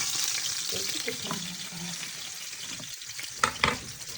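Small crucian carp fry in hot oil, a constant close crackle and hiss with a few utensil clatters and brief bumps toward the end.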